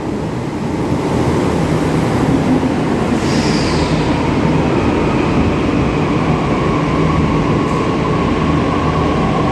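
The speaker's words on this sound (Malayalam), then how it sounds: "നമുക്ക് വേണ്ട മെട്രോ വരുന്നുണ്ട്" A Delhi metro train rumbles loudly and steadily nearby as it arrives at an underground station, a continuous roar of wheels on rails with a brief high squeal partway through.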